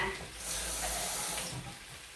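Water is poured from a tap into a bacon potato dumpling mixture in a pan, a close, soft hiss and splash that swells and fades over about two seconds, with no speech.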